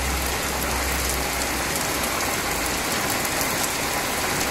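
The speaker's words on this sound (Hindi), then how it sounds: "बढ़िया बारिश हो रही है तकड़ी।" Heavy rain pours steadily in a dense, continuous hiss, loud and close, with no voices over it.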